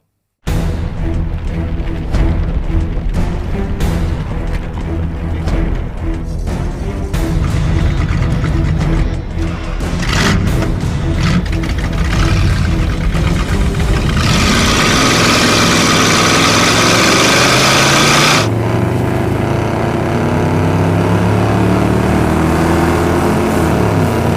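Several drag race cars in a three-way heads-up race rumble and idle loudly, then roar together into a sustained full-throttle launch that fades to a lower drone.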